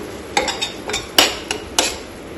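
Spoon pressing and mashing tomatoes in a metal pan for a puffed rice dish, a run of sharp clinks and taps against the pan at an irregular rhythm, close up and without talk.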